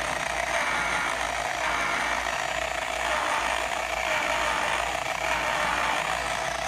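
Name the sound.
car polisher running on low setting with rubbing compound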